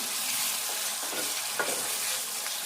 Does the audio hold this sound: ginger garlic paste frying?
yes